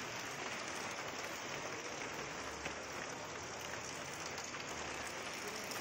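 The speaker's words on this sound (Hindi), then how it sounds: "बारिश अभी आ गई है, तो आपको भी आवाज़ आ रही होगी" Rain falling on a village rooftop, a steady, dense patter with a constant hiss of drops, moderately loud and unbroken for several seconds.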